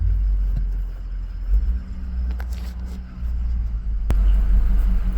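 An old truck engine idling after a repair to a faulty transmission sensor, a low steady rumble that swells and dips slightly, fairly loud and close.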